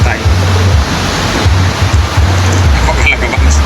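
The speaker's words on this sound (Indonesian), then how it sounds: "nyanyian debur ombak yang menyapa bibir pantai" Ocean waves break on a beach at a school camping trip, a steady loud wash of surf with rolling low surges and wind noise throughout.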